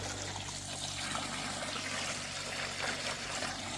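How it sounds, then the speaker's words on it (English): Steady running water trickles continuously at a moderate level, a soft even wash of sound with no talking. "Yes, that's running water."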